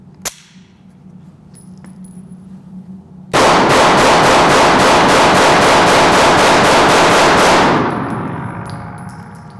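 Rapid gunfire from a Smith & Wesson M&P9 PC Metal Spec 9mm carbine at a range: a loud, sustained string of closely spaced shots lasting about four seconds, preceded by one sharp earlier shot and quiet background.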